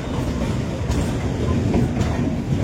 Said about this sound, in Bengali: পাটনা জংশন ঢুকছে, এই হচ্ছে পাটনা জংশন,